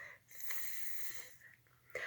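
A voice makes a soft, steady hissing whisper imitating a lawn sprinkler, breathy and quiet, lasting about two seconds.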